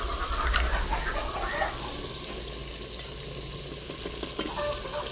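Red and green chili, turmeric and salt being stirred together in a hot frying pan, a loud sizzle with scraping strokes that settles into a steady hiss, no talk.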